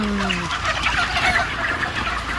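A flock of 31-day-old Taiwan broiler chickens clucks continuously at close range, a dense chorus of overlapping calls with a few longer tonal cries at the start and no talking.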